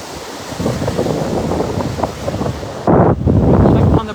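Ocean waves washing onto a wide beach at Sanibel on a sunny day, a steady loud wash of surf mixed with heavy wind noise on the microphone, swelling louder near the end, with faint voices in the background.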